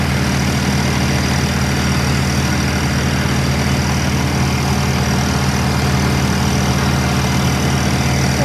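A '16-model tractor engine running steadily, a loud, close, continuous low rumble with no break or change in pace throughout.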